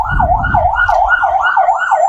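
A Liberia National Police patrol car siren on a Monrovia street wails in a loud, steady rising-and-falling cycle, close by, heard alone over low traffic rumble with a brief engine drone at the start.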